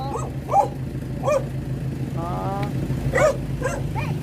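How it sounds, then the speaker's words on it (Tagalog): A dog barks repeatedly in short bursts, fairly close, outside a home in Tayug, Pangasinan, Philippines, over a constant background hum with people talking nearby. "Ay, may aso."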